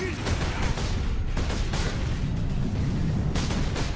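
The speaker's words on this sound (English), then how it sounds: "So we just picked up the bolter. This is your standard assault rifle for this game." A bolter assault rifle fires in Warhammer 40K Space Marine, with loud, sharp shots coming in irregular bursts over steady, dense battle noise.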